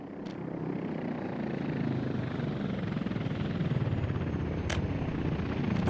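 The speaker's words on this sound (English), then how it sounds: "There are plenty of helicopters coming here," Several helicopters fly in within the game Workers & Resources: Soviet Republic, a steady loud rotor drone holding throughout with no one talking.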